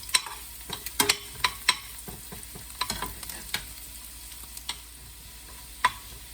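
Ginger and onions frying in a pan, with a steady low sizzle and scattered sharp pops and splatters, some louder spits standing out; no voices.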